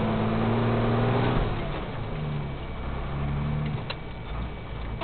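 A Mercedes-Benz 1516 truck engine labors and revs while climbing a steep uphill grade, a low droning roar with rising and falling tones that swells, dips and surges again, loud and close throughout.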